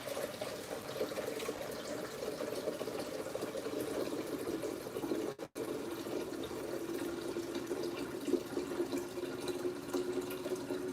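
Water pours steadily from a jug in a home, a continuous close splashing stream that briefly cuts out midway and then resumes.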